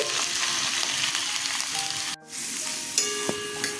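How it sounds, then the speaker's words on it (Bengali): Onions sizzle loudly and steadily in a little hot oil in a kadai. The hiss drops out briefly, then resumes with a light metallic clink. "এবার পেঁয়াজ ছেড়ে দিচ্ছি।"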